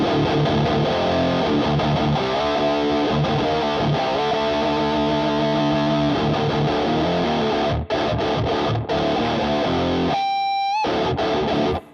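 Heavily distorted electric guitar run through a Bias X amp sim on a dual rectifier preset with EQ, reverb and drive, aiming at a modern metal tone: loud, dense chugging riffs with brief stops near the end.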